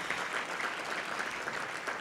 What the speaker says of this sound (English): Another round of applause for Mr. Jolin.